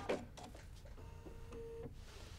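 A home sewing machine with a walking foot stitches quilting lines along a strip of masking tape, producing a faint, quiet mechanical whir in short runs with a brief tonal hum.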